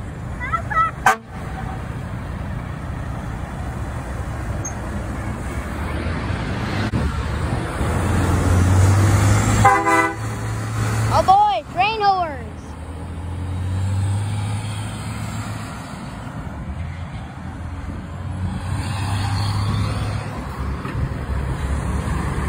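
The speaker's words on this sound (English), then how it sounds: "Rover horns. And a fire truck." Rover car horns honking repeatedly amid roadway traffic noise at a car event, with a fire truck also present; short toots stand out over a steady rumble of engines and crowd.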